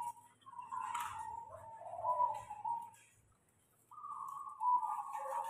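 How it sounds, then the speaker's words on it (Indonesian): A zebra dove (perkutut), a local songbird kept in a cage, gives soft, rolling coos in two phrases separated by a pause, fairly close but quiet, with no talk. "masih gesit toh perkutut ini"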